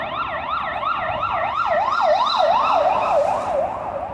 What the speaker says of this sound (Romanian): e nebunie totală cu sirene de poliție, de salvări